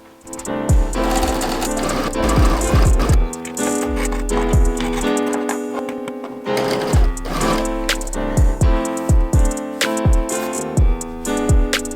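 A sewing machine stitches doubled dress fabric in quick rattling bursts, stopping and starting several times, close and clear with no talk.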